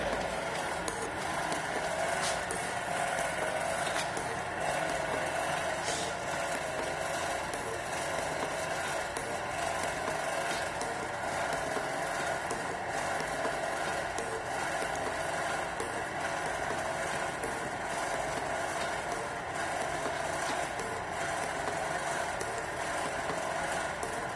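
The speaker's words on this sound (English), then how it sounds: "During cutting stroke, cutting action is taking place, but during return stroke, it is not cutting the surface." A metal-cutting shaper machine in a workshop runs through its cutting and return strokes, giving a steady, loud mechanical drone with a faint rhythmic churn underneath that holds evenly throughout.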